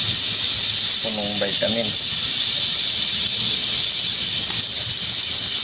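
Margarine sizzles in a hot pan as the base for pork dinuguan, a steady bright hiss running the whole time, with a short spoken phrase over it near the start.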